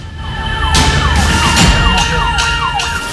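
An ambulance stuck in a traffic jam in Hyderabad wails loudly and close, its siren sweeping down in repeated cycles over the rumble of idling traffic.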